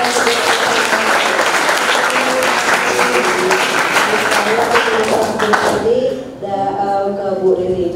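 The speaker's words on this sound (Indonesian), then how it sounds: "Tepuk tangan dong buat" Loud studio-audience applause, dense and steady clapping, greeting a guest at an Indonesian talk show, then dropping away after about six seconds as a faint musical tone and voices take over.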